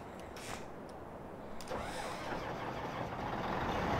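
Engine of a Case combine harvester in Farming Simulator 2015, a steady broadband mechanical drone that swells slightly louder midway and holds on continuously, with no talk over it.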